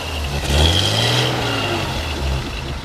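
A 1948 Plymouth Special Deluxe sedan engine with a single exhaust idles and revs nearby, a low steady rumble swelling briefly, with no voices.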